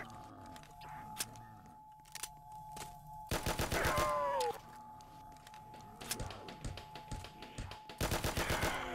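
Rapid gunfire from the Roblox game Resurrection is fired off to waste ammo, coming in two loud bursts of fast repeated shots separated by quieter stretches of game sounds and faint movement.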